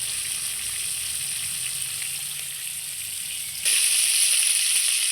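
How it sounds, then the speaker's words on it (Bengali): Hilsa fish pieces fry lightly in a pan, a steady, bright hiss of sizzling oil that jumps louder partway through and keeps going, close by, with no voices. "আমি মাছটা উল্টে নিলাম, হালকা ভেজে নিব।"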